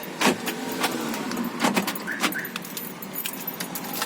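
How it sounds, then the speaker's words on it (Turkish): A Volkswagen Caddy remote car key, an original spare, is handled and jingles in several short close metallic jangles against a quiet background, with no speech. "Bu da yeni yapmış olduğumuz anahtar."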